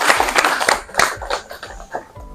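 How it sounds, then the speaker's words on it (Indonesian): Brief burst of classroom applause for a student, a handful of hands clapping in an uneven patter at close range, fading out within a couple of seconds amid faint room noise. "Oh iya, kita berikan aplaus tuh."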